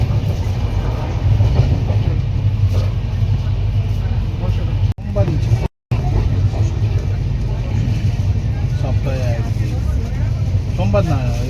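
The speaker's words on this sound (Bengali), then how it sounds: "একদম নির্ধারিত সময়ই আমাদের ট্রেন ঢুকছে নৈহাটিতে" The Kol Sairang Express rolls into Naihati station with a loud, steady rumble and rhythmic wheel clatter, broken by a brief dropout midway, while a voice talks over it.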